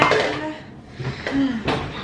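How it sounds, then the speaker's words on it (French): Dishes being unloaded from a dishwasher, with a few close clinks and clatters of plates and cutlery in a short, uneven burst. "Il faut que je débarrasse mon lave-vaisselle."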